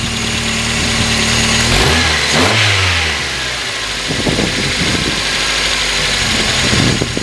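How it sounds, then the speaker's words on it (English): Car engine revving hard, then its pitch sinking as the throttle is eased off and the RPM falls toward idle, with a few more throttle blips and a rough, slightly knocking tone; loud and close, with no speech. "when I pull back on it, like if I pull back, the RPMs go lower"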